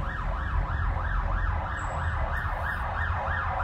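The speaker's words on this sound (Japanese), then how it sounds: "救急車出ない。 これ救急車。 消防車。" Ambulance or fire engine siren wailing loudly and steadily in repeated rising and falling sweeps, with heavy low road rumble underneath, heard late at night in Japan.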